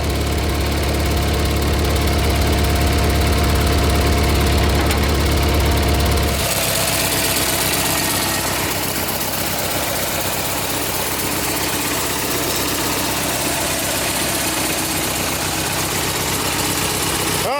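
A tractor's diesel engine, started on a LiFePO4 battery, idles steadily and loudly with a low rumble and vibration; around the midpoint the tone shifts and it settles into a slightly rougher, knocking idle for the rest of the span.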